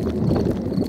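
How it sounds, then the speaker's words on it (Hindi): A cartoon father's hungry stomach rumbling, heard as a short, low, continuous gurgling growl, close and alone. "ये डैडी के पेट की आवाज है।"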